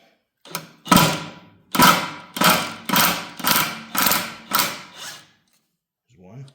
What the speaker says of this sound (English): I've got my impact wrench set on the lowest setting.